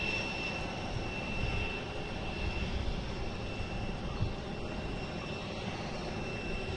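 Low steady rumble and whine of a JetBlue jet airliner pushing back at Boston Logan Airport, a constant engine drone with a thin high tone above, heard from a distance and without any talk.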